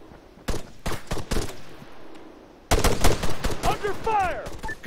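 Gunfire during a village assault mission in the ARMA 3 military shooter, with scattered distant shots and bursts at first, then heavier, louder firing. Snaps and whistling sweeps follow toward the end.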